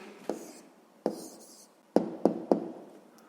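Pen strokes and taps on paper while an answer to a percentage problem is written down: five short, distinct scratching knocks spaced irregularly, close and fairly quiet, with no speech.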